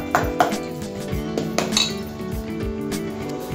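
Spoon clinking against a bowl while suji dhokla batter is mixed, a run of sharp metallic taps and scrapes, close and fairly loud, with no talking.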